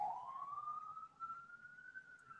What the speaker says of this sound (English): I can hear that siren